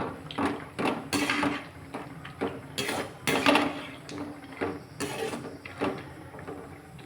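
Irregular scraping and clinking of a utensil stirring pasta in a metal pot, with repeated bursts of clatter at a moderate, uneven pace.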